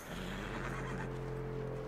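A saddled horse in Red Dead Redemption 2 whinnies in a drawn-out, wavering neigh, with low snorting breath and a faint hoof shuffle underneath, close and moderately loud.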